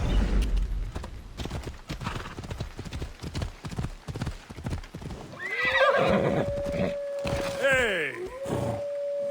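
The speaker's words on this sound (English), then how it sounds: "Looks like a sturdy horse." Hooves clop in a steady rhythm, then a horse whinnies loudly twice in rising and falling squeals, close by, with a voice briefly speaking, in the video game Assassin's Creed Odyssey.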